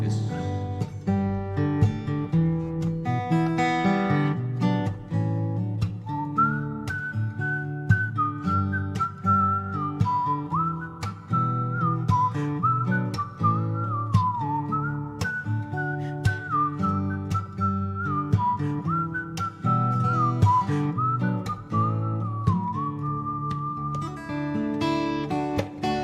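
A person whistles a tune over a steady backing accompaniment, the clear melodic line running for the length of the clip.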